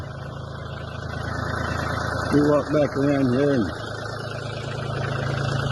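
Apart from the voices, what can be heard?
tractor engine idling while warming up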